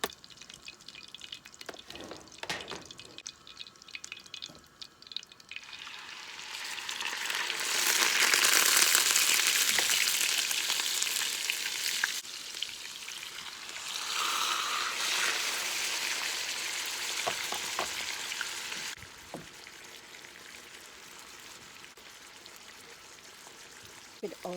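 Steak sears in butter and olive oil in a very hot, smoking pan, building to a broad, loud hiss that swells and eases in waves, with talking over parts of it.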